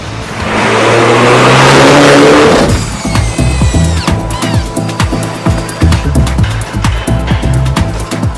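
A Mini John Cooper Works Coupe engine roars in a sustained loud rev, then shifts into rhythmic, rising acceleration pulses with gear changes, close and dominant with no talk over it.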